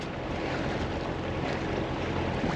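A boat heading out to sea on the River Tyne, with steady wind buffeting and water rush, a dense continuous wash of noise at moderate level and no voices.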